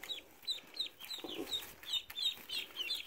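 Newly arrived ducklings peep continuously, a steady run of thin, high chirps repeating every fraction of a second over a light background hiss.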